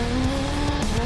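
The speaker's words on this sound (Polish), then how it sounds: "szybkie ujęcie Jamie'ego zmieniającego biegi" Porsche 911 Turbo with a loud, steady engine roar held close, the pitch dipping briefly as the driver snaps through gears aggressively, no voices.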